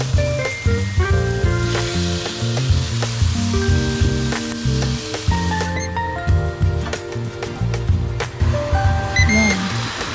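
Chicken coated in chicken oil sizzles steadily as it cooks, a constant frying crackle under bright music, with occasional clinks.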